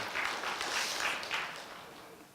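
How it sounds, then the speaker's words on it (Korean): A church congregation at a Wednesday prayer service claps for the worship team in a short, moderately loud burst of applause that fades after a couple of seconds. "찬양단에게 박수 한번 하시도록 하겠습니다."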